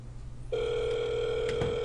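A telephone sounds a steady, unbroken electronic ring tone that starts abruptly after a moment of quiet room noise and continues at moderate loudness to the end.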